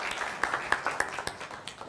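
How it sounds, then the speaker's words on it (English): A small audience claps to welcome a panelist onto the stage at an innovation forum, a brief scattering of distinct handclaps that thins out quickly, moderately near and fairly quiet. "Please give her a warm applause."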